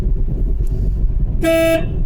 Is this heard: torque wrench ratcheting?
no